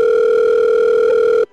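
A telephone dial tone sounds while placing a call: a loud, steady, unbroken tone that lasts about a second and a half and then cuts off abruptly.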